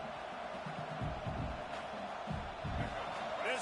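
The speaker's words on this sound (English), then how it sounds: "This crowd trying to make life miserable for this offense." A football stadium crowd roars in a broad, distant wash of noise that swells in places while a commentator talks over it.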